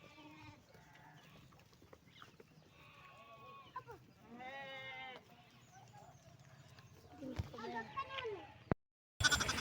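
Several sheep bleat in short wavering calls, close and scattered, while being dosed with deworming medicine, with people talking quietly in between and a sudden burst of noise at the end.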